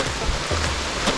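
A brief patch of steady rain patters on surfaces along the Stone Mountain Loop Trail, a soft even hiss with scattered drops and no voices.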